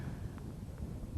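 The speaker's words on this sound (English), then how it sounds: "It's really windy and horrible today." Strong outdoor wind buffets the microphone on a gusty day, producing a brief, low, rumbling roar with no other clear sounds.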